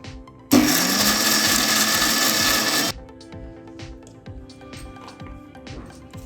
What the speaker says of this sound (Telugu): కచ్చా పచ్చాగా మిక్సీ వేసుకుందాం.